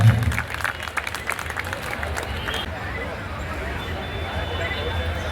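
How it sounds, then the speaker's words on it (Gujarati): A crowd claps at an outdoor mass wedding ceremony at a Meldi Mata temple in Valasan, with a burst of applause at the start that softens into scattered clapping and chatter under background babble. "જોરદાર તાળીઓના ગડગડાટથી વધાવીશું આપણે"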